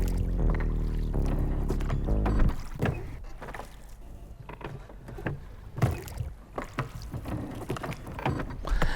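A boatman rows a boat on the Yamuna river. Steady, rhythmic knocks and splashes of the oar strokes repeat close by, after a brief stretch of tonal music at the start.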